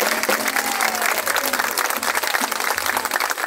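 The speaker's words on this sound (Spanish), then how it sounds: "Yo quiero que ese aplauso se oiga mucho más fuerte" Loud, continuous crowd applause at a mayor's celebration with a cumbia-style combo band, dense clapping that fills the whole stretch, with some cheering voices mixed in.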